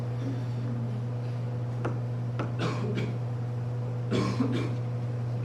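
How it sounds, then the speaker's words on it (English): A few muffled coughs break the quiet in a math classroom filled with a steady electrical hum. "No coughing in here."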